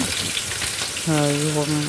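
Cauliflower fries in a pan with a steady crackling sizzle, and a voice-like tone rises over it in the second half.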